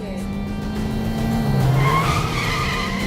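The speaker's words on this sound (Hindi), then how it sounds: "आदि प्लीज गाड़ी धीरे चलाओ, तुम्हें पता है ना मुझे डर लगता है" Car tires skid and squeal sharply as a car is driven fast in a TV drama scene, a loud, continuous screech that rises in pitch over a steady engine roar.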